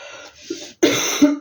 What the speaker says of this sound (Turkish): Tekrar özür dilerim bu kötü öksürükler için